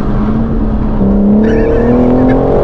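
A BMW M car's engine drones loudly from inside the cabin, holding a steady tone and then rising in pitch as it accelerates out of a corner, with faint higher whines above.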